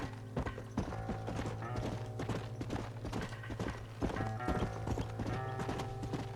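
Horse hooves clip-clop at a steady trot in the video game Red Dead Redemption, a continuous rhythmic patter of close, crisp hoofbeats with no talking.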